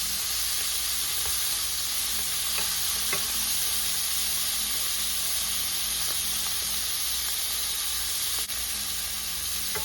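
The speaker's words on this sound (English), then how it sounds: "sear them up. See? Heat them up real good." Beef searing in a hot pan for a braised beef stew, a dense, continuous sizzle and hiss with occasional faint stirring clicks, steady and fairly loud with no voices.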